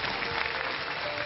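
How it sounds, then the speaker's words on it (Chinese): A studio audience claps together on a television show stage, a dense, even burst of applause that lasts a moment. "给大家掌声"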